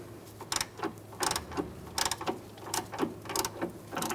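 A ratchet tightens the lower sway bar link on a Fiat 500 in a steady series of close clicking bursts, each stroke giving a quick burst of ratcheting clicks at an even, repeated rhythm.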